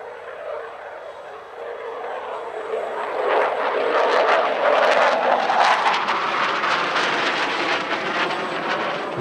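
A Eurofighter Typhoon roars during an air show display, its jet noise building from a distant rush into a sustained, loud, broadband roar as it performs a very slow roll.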